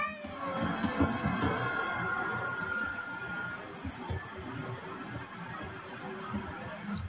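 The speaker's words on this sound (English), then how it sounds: "Oh, it's a kitten." Kitten in the video game MineBound giving a few soft, faint meows over a low hum, with small repeated clicks above and no talk.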